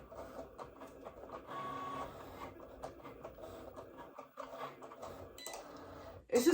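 A Cricut cutting machine runs steadily at close range, a continuous mechanical whir with small shifts in tone, ending in a few louder clicks and knocks.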